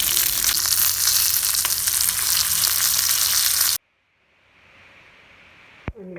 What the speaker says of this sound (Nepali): अदुवा एकछिन चलाउनु पर्छ है फेरि।